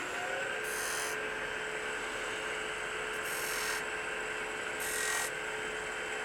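A wood lathe spins a spalted wood candlestick with a steady hum, and three short bursts of hissing mark peeling cuts with a tool against the turning workpiece, fairly quiet with no talk.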